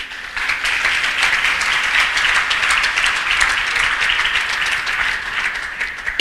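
A church congregation breaks into sustained applause, dense and even clapping from many hands that swells slightly and carries on steadily for several seconds.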